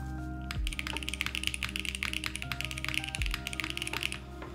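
Rapid, muffled typing on a handmade keyboard in a soft silicone case: dense, soft, dampened key taps in a quick uneven rhythm, heard close with a couple of heavier thuds.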